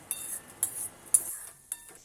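A metal spoon clinks against a pot while stirring salt into ridge gourd kootu, at a slow, uneven rhythm, four or five sharp taps with quiet scraping between, close by.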